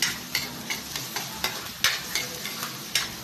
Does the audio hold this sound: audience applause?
no